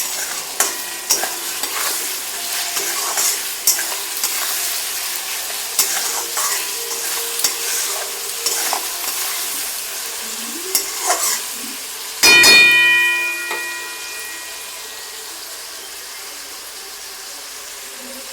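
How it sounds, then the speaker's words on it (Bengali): Chopped tomatoes fry and sizzle in a pan for a sabudana breakfast dish. A spatula stirs and scrapes them throughout, with one louder metallic clank near the end. "টমেটো দিয়েও কিছুক্ষণ ভেজে নেব।"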